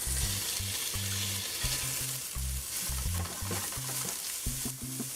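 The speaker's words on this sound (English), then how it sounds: "I'm gonna add in the pepper and the garlic now." Pepper and garlic sautéing with toasted methi seeds in a pan for Trinidad curry goat, a bright steady sizzle with stirring scrapes, close and loud, no voices.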